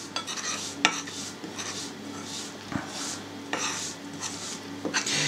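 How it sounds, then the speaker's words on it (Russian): Samsa ingredients are mixed in a bowl, with a spoon scraping and clicking against the sides in a quick, uneven rhythm of close, moderately loud strokes. "Перемешиваем."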